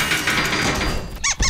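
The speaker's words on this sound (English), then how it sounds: "Let's close the cage door before Pippin escapes again." A cartoon cage door squeaks shut with two short, bright, high creaks near the end, following a stretch of busy background sound.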